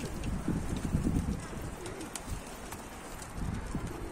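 A tumbler pigeon coos in low, repeated murmuring phrases close by, over steady outdoor background noise with a few faint clicks.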